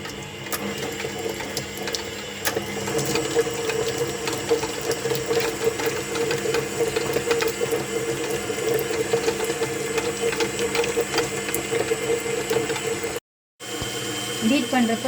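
An electric mixer beating butter for a pandan palm-sugar cake, giving off a steady mechanical whirring hum with faint rattling. The whir runs continuously, drops out briefly near the end, then resumes.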